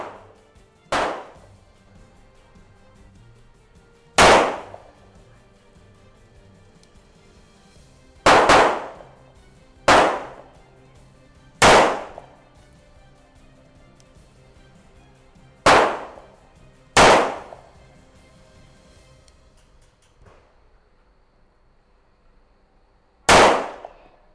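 Sharp, loud gunshots from a Colt Gold Cup Trophy 1911 pistol ring out at a range, spaced irregularly several seconds apart, each a crisp crack with a short ringing decay over quiet background.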